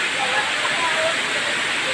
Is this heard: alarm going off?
no